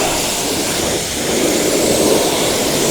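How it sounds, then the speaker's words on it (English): A pressure washer gives a car its final rinse, washing snow-foam soap off the vehicle with a loud, continuous hiss of spray that holds steady for the whole short stretch, with no one talking. "So we're going to do a final rinse"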